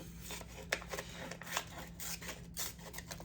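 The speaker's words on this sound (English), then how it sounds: "I could cut it in half" Scissors snip through paper journaling frames, a run of close, crisp cuts and rustling paper strokes repeating steadily over a soft constant hum, with no voices.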